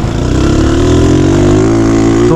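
A motorcycle with a punctured exhaust rumbles loudly up close, its rough, sputtering exhaust note rising in pitch as it accelerates.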